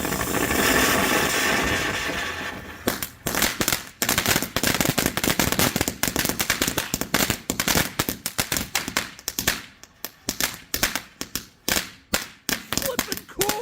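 A Santan Fireworks giant bullseye cone fountain firework roars with a dense hiss for a few seconds, then breaks into rapid bursts of sharp crackling pops that grow sparser toward the end.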